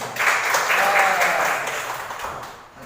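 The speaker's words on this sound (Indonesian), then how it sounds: "Berikan tepuk tangan dulu buat Jelma." A class claps for a student in a short burst of applause that swells and then fades over a few seconds, with a teacher's voice heard faintly alongside.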